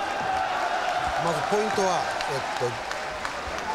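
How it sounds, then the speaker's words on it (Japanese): A boxing arena crowd cheers steadily during a WBA super featherweight title bout, a continuous broad roar that stays under a commentator's close-up speech. "さあ今度は一気に押せ押せの声援に変わっています。"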